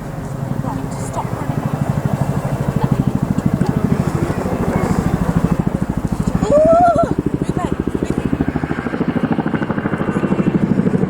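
A Chinook twin-rotor helicopter flies a display at an RAF airshow, its steady heavy rotor thudding loud and continuous beneath a commentator speaking over a public address.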